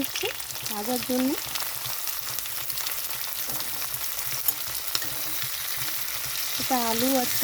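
Prawns and potatoes frying in mustard oil with onion and green chilli in a pan, a steady close sizzle throughout with occasional stirring clatter, while someone speaks.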